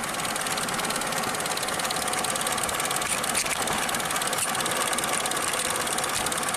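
A Ford Probe engine idles roughly and is barely running, giving a continuous loud, uneven mechanical chatter and knock with a slight wobble throughout and no voices.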